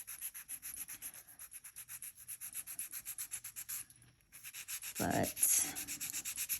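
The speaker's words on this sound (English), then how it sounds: "I don't know if these nails, this one especially, will survive the filing." A nail file rasps back and forth across nails coated in peel-off base coat, rapid rhythmic scratchy strokes close up, with a short pause and a brief spoken word near the end.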